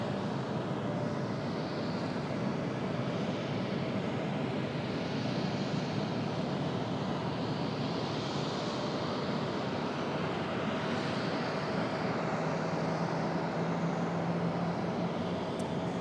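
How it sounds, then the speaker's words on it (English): A heavy jet departing Raleigh-Durham International Airport on a Thursday evening gives off a steady, broad engine roar that holds at an even level for the whole stretch, with no voices over it. "We'll have back-to-back heavy departure."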